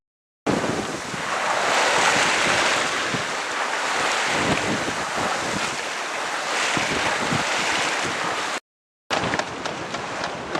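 A Westerly Fulmar sailing yacht moves through open sea near the Isle of Man, with a loud, close rush of waves against the hull and strong wind buffeting over roughly ten seconds, briefly cut out near the end, with no talking.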